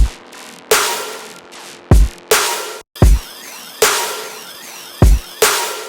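Punchy nu trap wave electronic drop with hard kick-like hits and bright, wide synth drop adders layered under the lead, repeating in a steady rhythmic pattern, loud and close.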